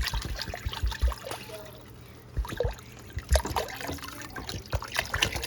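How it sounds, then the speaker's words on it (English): Water poured into a cooking pot for green pozole broth over medium-high heat, a soft uneven trickle and splash close by with light kitchen clatter, no talking. "So I'm adding water."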